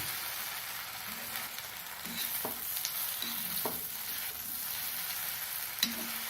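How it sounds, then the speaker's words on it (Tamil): Cut idli pieces are stirred gently into spicy masala frying in a pan, with a continuous soft sizzle broken by several close scraping spoon strokes and no talking. "அந்த இட்லியை சேர்த்துக்கலாம் உடையாத லேசாக கிளறணும்"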